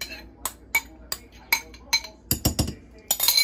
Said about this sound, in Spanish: el resto que tenemos aquí lo vamos a revolver aquí en la mezcla que ya teníamos licuada